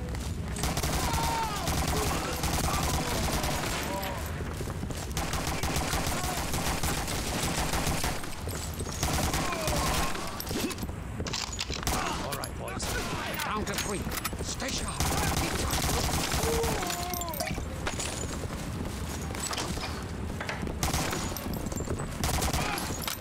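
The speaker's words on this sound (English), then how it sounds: "Who's he shooting at?" Gunfire from the World War II shooter Medal of Honor: Allied Assault Spearhead in a Normandy battle, continuous dense volleys of rifle and machine-gun shots with blasts and battlefield din throughout.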